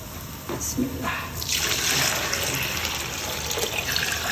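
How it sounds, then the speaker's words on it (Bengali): Cold water pours steadily into a cooking pot, starting with a light trickle and swelling into a full rushing stream that continues to the end. "ঠান্ডা পানি দিতেছি"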